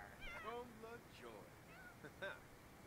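A cat meows in The Sims 4, several short, high, bending calls spread across a few seconds at moderate level, with soft game ambience beneath and a voice speaking around them.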